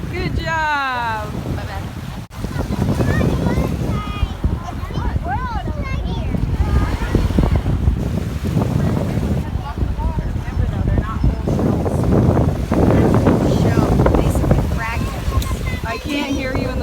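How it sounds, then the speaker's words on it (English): Strong wind at an ocean beach buffets the microphone in a constant loud roar with surf behind it, while people talk and a voice calls out over the gusts. "It's super windy down here."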